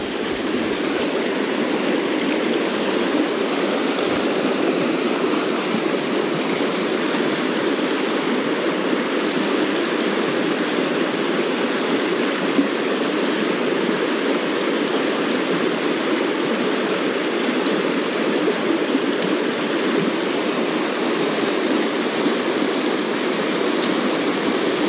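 Fast-flowing water of the river Dee rushes steadily and loudly throughout, a dense continuous roar of current close by with no voices.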